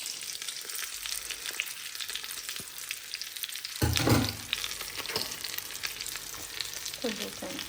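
Breaded pieces fry in hot oil in a pan, producing a steady close crackling sizzle throughout, with a brief louder burst of spattering partway when more food goes in.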